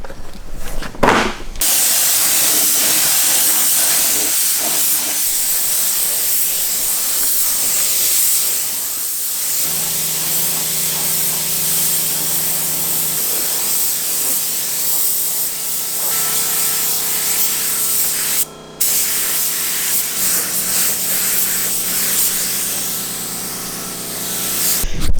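A spray gun lays down the first coat of fresh paint, a steady broadband hiss running almost continuously with brief breaks near the start and around the middle, loud and close, with a lower compressor-like hum underneath and no talking.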